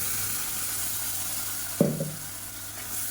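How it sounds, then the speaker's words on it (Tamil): Tomato paste sautés in a pan with a constant soft sizzle and a single sharp clink or stir partway through, and no voices. "இதை நல்லா வதக்கி விட்டுக்கலாம்"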